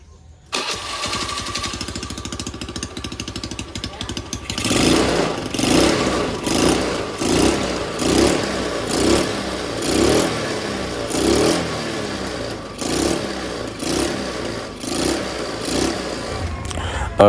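Honda Beat motorcycle engine cranks at first, then catches and revs in a steady series of about a dozen rising throttle blips, loud and close, after adjustment of the idle and throttle.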